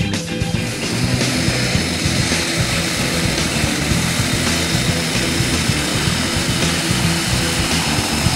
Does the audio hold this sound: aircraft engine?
yes